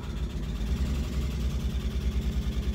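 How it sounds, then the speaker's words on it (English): A car engine idles steadily with a low, throaty rumble and a smooth, even pulse, heard up close with no talking. "listen to that engine purr. She sounds good."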